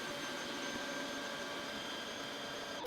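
An EGO 3200 battery-powered pressure washer sprays through its white nozzle on the low setting, a steady, dense hissing whoosh with a constant motor whine that runs unbroken throughout and close to the microphone.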